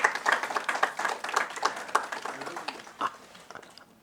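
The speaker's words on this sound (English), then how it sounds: "Give her a big round of applause also." A small audience at an event on women's and girls' empowerment gives a round of applause, with distinct, fairly sparse hand claps near the listener that gradually thin out and fade.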